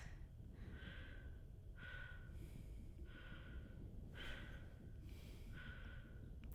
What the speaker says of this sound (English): Just the sound of her breathing, and that's all you get.